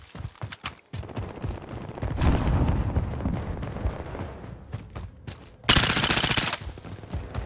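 Automatic pistol fire in Call of Duty: Modern Warfare, with several sharp single shots early on, then a long, loud, rapid burst and a bright blast near the end, close and unaccompanied by talk.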